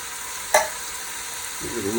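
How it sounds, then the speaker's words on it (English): Chili with kidney beans and white corn is stirred in a pot over a steady, low background hiss, with one brief sharp scrape of the utensil. "Give it a little stir."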